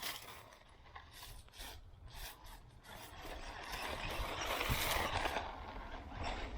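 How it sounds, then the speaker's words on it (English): A 1/16-scale 4x4 RC truck crawls through leaf litter and pine needles, its small motor whirring under a steady crackling, rustling scrunch of dry debris that grows louder as it nears. "Through all this leaf litter and pine needles."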